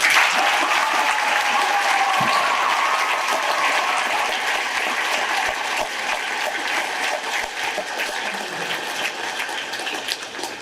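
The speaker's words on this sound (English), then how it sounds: "Let's give them a real round of applause." A large crowd applauds steadily at a middle school veterans celebration, a dense wash of clapping that fills the whole stretch and tapers slightly toward the end.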